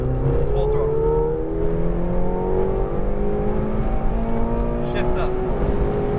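A McLaren 720S sports car at full throttle on a Las Vegas exotic-car track, a loud close engine roar climbing steadily in pitch through rising gears, with intermittent speech under it.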